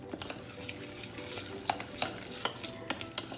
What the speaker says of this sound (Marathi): आणि आता लागेल तसं पाणी मिक्स करायचं आहे.